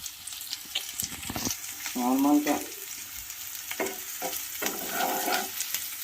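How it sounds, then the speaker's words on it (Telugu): Onions and two green chillies fry in a pan for a creamy chicken malai handi, a steady soft sizzle with a few louder stirring scrapes and bursts, heard close with no talking. "ఫస్ట్ మనం ఆనియన్స్ ఇంకా 2 పచ్చిమిరపకాయలు ఇట్లా ఫ్రై చేసుకోవాలి"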